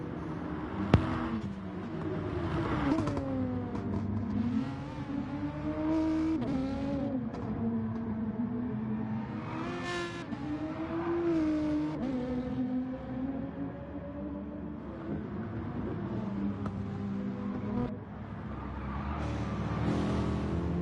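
Race cars in an Interlagos endurance race in a racing game, engines droning loud with rising and falling revs through turns, several cars running close together, with no one speaking.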